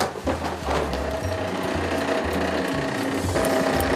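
A coffee roaster machine roasts Ugandan coffee, giving a loud, continuous mechanical whir with a rhythmic rattling chatter and a low drone throughout, with no talking.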